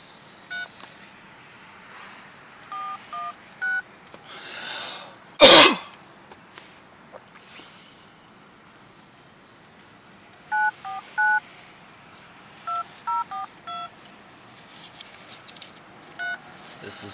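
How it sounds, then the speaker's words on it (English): Keypad tones from a flip phone sound in short runs of beeps, a brief cluster early and a longer sequence later, separated by quiet stretches and a sudden loud cough or throat clear. "Phone from your fucking flip phone."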